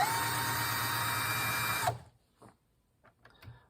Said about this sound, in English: Chamfer, De-burr, and then we'll run our towel over it.